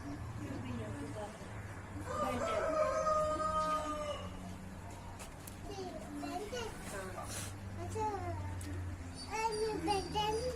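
A rooster crows several times, the drawn-out calls standing out over children playing and chattering and a steady low hum at a zoo aviary, moderately close but partly masked by voices.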